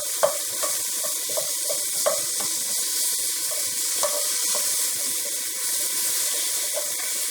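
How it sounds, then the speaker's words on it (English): Food sizzles steadily in a pan as it gets a quick sauté before a pot roast. A constant frying hiss runs under light scrapes and clinks of stirring spaced through it, close by and without speech. "quick saute."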